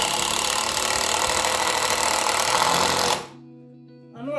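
A power driver buzzes steadily as it drives a Torx screw into wood while building slot car track, running loud for about three seconds before stopping abruptly into quiet.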